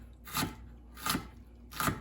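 A knife chopping jalapenos on a board, three evenly spaced sharp chops about two-thirds of a second apart, close and crisp.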